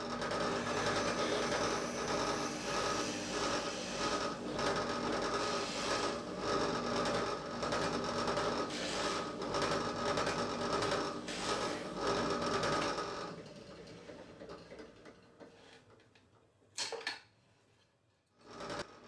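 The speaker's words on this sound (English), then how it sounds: "drilled 2 holes through the entire stack of scraps" A drill bores two holes through a stack of wood scraps for a leg vise template, a steady whirring drone running continuously before cutting off, followed by a few faint taps and knocks.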